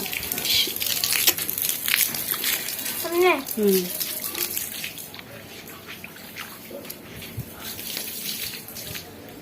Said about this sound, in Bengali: ছিটাবে না, ভিতরে জল ঢুকে যাচ্ছে।